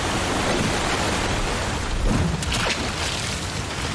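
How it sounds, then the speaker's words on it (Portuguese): Steady broadband rain hiss in Resident Evil 4 Remake, an even downpour filling the whole clip at constant loudness with a faint brief disturbance midway; no voices. "Caramba, olha a chuva."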